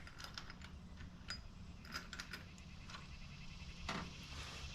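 Ratchet and sockets turning the valve cover bolts on an Infiniti G35 / Nissan 350Z engine, heard as scattered quick clicking bursts at close range over a low steady background rumble.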